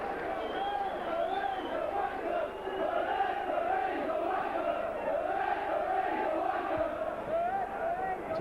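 Wigan rugby league crowd jeering a penalty decision, a sustained roar of boos and shouts from a large stadium audience, steady and moderately distant.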